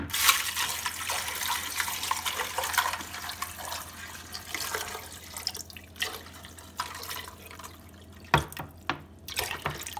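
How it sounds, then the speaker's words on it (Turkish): Water pouring from a tap or jug over eggs in a pot, a steady rushing splash that thins out toward the end with a few sharper knocks and drips, close by and without speech. "Ve üzerine tahmini olarak su koyuyorum."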